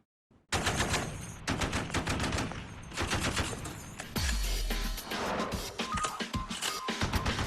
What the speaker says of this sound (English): This is the Browning M250 caliber machine gun.